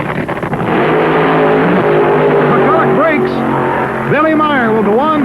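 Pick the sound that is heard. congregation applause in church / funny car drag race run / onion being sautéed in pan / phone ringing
funny car drag race run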